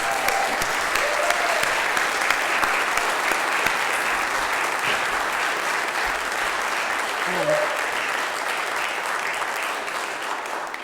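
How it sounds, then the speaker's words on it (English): Loud, sustained audience applause for musicians at a benefit concert, continuous clapping with a few faint voices mixed in. "let's just give another hand of applause for"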